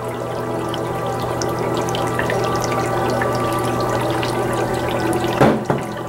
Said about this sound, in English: So you can have molecular changes by bubbling the gas through different compounds, through different liquids, distilled water, sulfuric acid.